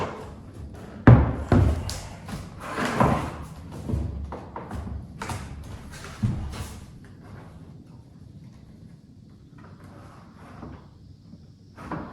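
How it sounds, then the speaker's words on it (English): Plastic parts of a Keter parcel box being assembled knock and bump together in a few sharp clicks and thuds, with quieter handling noises that fade toward the end. "now I heard a click"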